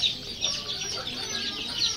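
Chickens at a poultry market cluck and chatter in a dense, continuous flock, several birds calling at once from nearby with no one speaking.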